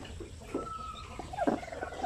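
Native chickens of the sampin and basilan breeds cluck in a backyard poultry pen, with several short close clucks and calls scattered over a faint background.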